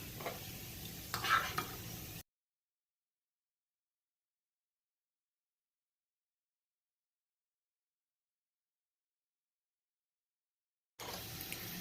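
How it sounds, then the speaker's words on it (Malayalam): Flattened rice (aval) roasts and gets stirred in a pan over medium flame for payasam, a soft sizzling scrape heard briefly, broken by a long stretch of silence before the faint sizzle returns. "ഇനി ഇതിലേക്ക് അവിലിട്ട് കൊടുത്തിട്ടുണ്ട്. ഇനി നമുക്ക് മീഡിയം ഫ്ലെയിമിലിട്ട് റോസ്റ്റ് ചെയ്തെടുക്കാം"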